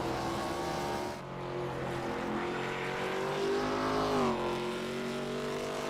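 Pro Cup Series race cars roaring around the Irwindale oval, engines droning loud and steady with a pitch shift as the field passes; a sustained, dense motor roar with no voices.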